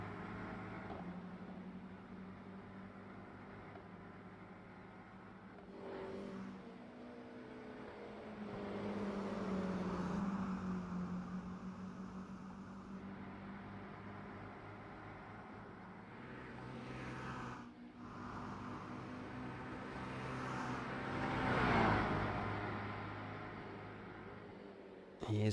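A Toyota GR86 engine in a sim racing game at Brands Hatch, pushed hard, drones steadily throughout with rising and falling revs; a voice commentates over it.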